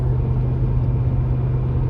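An RV drives at night on a windy December highway from New Mexico toward Michigan, with a steady, loud, low engine and road rumble that holds evenly throughout, and no voices.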